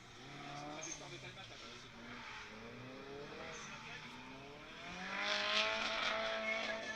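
A drift car takes a passage on a race circuit, its engine revving and shifting pitch with faint tyre noise, heard at a distance beneath a commentator's steady talk and swelling louder toward the end.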